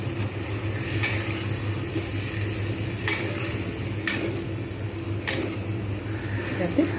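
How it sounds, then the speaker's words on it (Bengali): A little water hits masala frying in a pan for patal paneer, with pointed gourd and paneer, and sets off a steady sizzle punctuated by sharp spatters and spoon-stirring clicks. "এইবার আমি এর মধ্যে বেশি নয় অল্প করে একটু জল দেবো"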